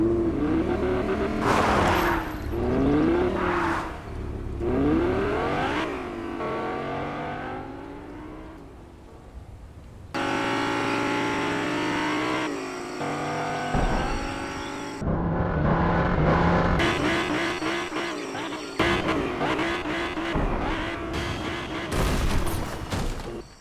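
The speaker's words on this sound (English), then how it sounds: "he tried driving it off a cliff with the rocket boost" A car in the Fortnite video game, fitted with a rocket boost, revs and roars as it drives off a cliff, followed by loud crashing impacts and bursts of engine noise, with no talking.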